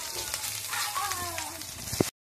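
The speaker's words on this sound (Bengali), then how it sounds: "এই যে এটা আদা পেঁয়াজ একটু মরে এলে তারপর দিব টমেটো কুচি" Ginger and onion fry in oil with a soft, steady sizzle close by, a voice talking over it, and a brief sharp clatter just before everything falls silent.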